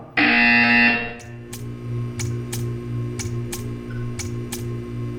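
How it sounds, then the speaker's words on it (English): Portal 2 test chamber buzzer: a loud, bright electronic buzz lasting about a second, followed by a steady run of sharp ticks over a low mechanical hum. "You will hear a buzzer."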